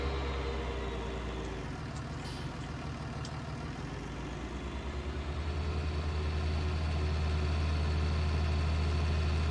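An old tractor engine idles steadily close by, a continuous low rumble that stays even throughout with no talk over it.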